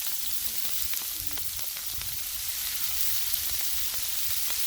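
Onions and cabbage, with sausage and bacon, sizzle on a Blackstone griddle in a steady, close, crackling hiss scattered with small pops throughout.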